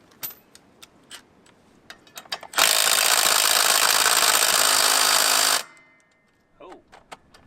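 Close-up work on the wheel of an old Jeep J20: scattered clicks and taps come first, then a loud power tool, likely an impact wrench, runs continuously for about three seconds and stops, followed by a few faint knocks.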